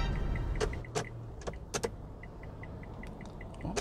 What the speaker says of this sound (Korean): 좌측 깜빡이가 속도가 빠르네요.